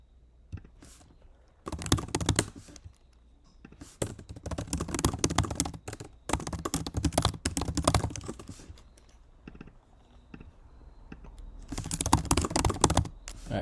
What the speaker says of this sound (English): right now I'm just typing out the page objects